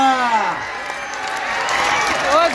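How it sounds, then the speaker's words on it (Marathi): A large outdoor crowd at a kushti wrestling bout in Vaijapur, Maharashtra, keeps up continuous clapping and cheering, with shouting voices over the top throughout. "टाळ्या."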